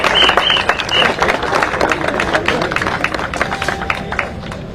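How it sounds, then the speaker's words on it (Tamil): Applause requested on behalf of lawyers at a Tamil public gathering where gifts are presented; a dense, steady wash of crowd clapping fills the whole stretch at close range, with no speech over it. "வழக்கறிஞர்கள் சார்பாக பலத்த கரகோஷம் தரும்படியாக கேட்டுக்கொள்ளப்படுகிறீர்கள்"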